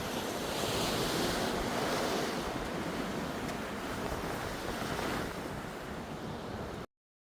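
Sea waves at Galle Fort's Black Fort, a steady, loud broadband wash of surf with wind noise across the mic, continuous throughout before cutting off abruptly near the end.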